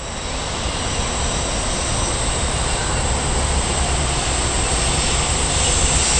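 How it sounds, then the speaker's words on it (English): A freight train passing at close range, a loud continuous broadband rumble and roar that stays steady throughout with no voices. "And now we got a freight train, it sounds like."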